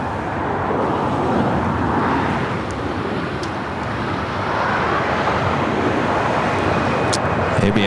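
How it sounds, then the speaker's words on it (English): An ABX Air jet taking off from the south side at LAX, a loud, steady roar with wind buffeting the microphone and a faint voice talking underneath. "ABX Air taking off here on the south side."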